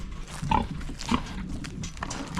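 Pigs at a hog sale grunt and squeal in short, repeated bursts, several animals close by amid a busy pen, with no clear talk over them.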